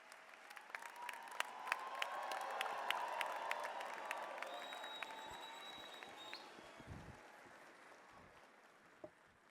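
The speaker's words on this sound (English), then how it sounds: "could you please give him another round of applause?" A graduation ceremony audience applauds steadily, a broad wash of clapping that swells and then gradually fades, heard from some distance in a large hall, with a few louder individual claps standing out.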